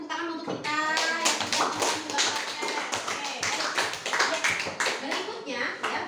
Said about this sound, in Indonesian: Oke, berikan tepuk tangan untuk kita.